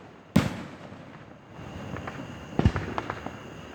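Fireworks bursting at a Fourth of July show in Booneville in 2020: one sharp boom early, then a second loud report followed by a string of smaller crackling pops, heard from a moderate distance.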